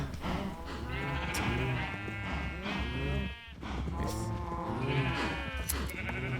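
Sheep in Minecraft bleat repeatedly, several overlapping calls in steady succession with a brief pause midway, loud and close with no talk.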